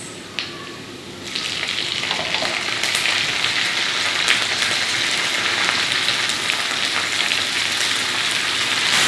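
Shrimp paste (terasi) stir-fried in a pan for sambal bursts into a loud, dense crackling sizzle after a brief quieter start, with continuous spattering and occasional stirring.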